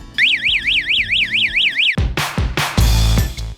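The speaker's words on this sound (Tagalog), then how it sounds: "Ngayon ay gagawa tayo ng pinaka-simple circuit ng fire alarm." A homemade fire alarm circuit, set off with a lighter, sounds a loud warbling siren whose pitch sweeps up and down in a steady repeating cycle. It then cuts off abruptly into heavy clattering and loud bursts of noise.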